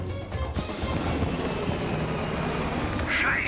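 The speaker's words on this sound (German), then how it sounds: "Scheiße! Der Heli ist entkommen!" Helicopter flying off during a rooftop escape in the video game Call of Duty Black Ops Cold War: a steady, fairly quiet rotor-and-engine roar that holds throughout amid a noisy game scene.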